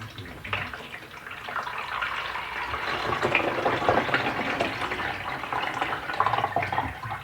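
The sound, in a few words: pouring liquid into a coffee pot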